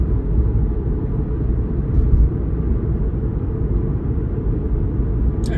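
A Toyota Supra on the road, its engine a steady low rumble with road noise as it drives toward a roundabout and corners, the sound even and constant throughout.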